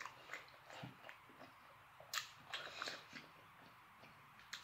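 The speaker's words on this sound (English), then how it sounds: "It's something about when you bite in the shrimp" Wet, close-up chewing and biting on shrimp cocktail during an eating show: soft irregular crunches and squishes with a few sharper bites, quiet overall and with no talking.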